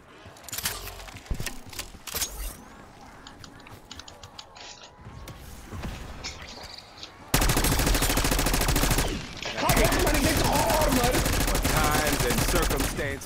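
Gunfire in the Call of Duty Black Ops 6 video game starts as scattered clicks and shots, then erupts into dense, loud sustained automatic bursts that dominate the second half, with a brief dip midway.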